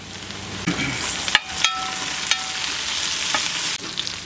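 Mint leaves hiss and crackle in hot oil for a Tamil beef bone curry, a continuous close sizzle broken by several sharp clinks and scrapes of a spoon stirring against the pan.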